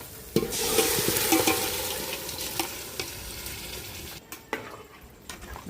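Boiled meat tipped into a hot pan, a loud hissing splash that settles into sizzling, followed by a few knocks and scrapes of a spoon stirring.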